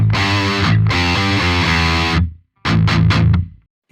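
An electric guitar played through a BOSS GT1000CORE with the distortion block bypassed gives a modestly gained, crunchy tone. A sustained strummed chord passage is followed by a brief silence, then a few short, choppy chord hits that ring out and fade.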